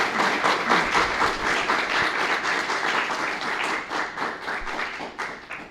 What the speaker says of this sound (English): Can we have a round of applause for our amazing panelists?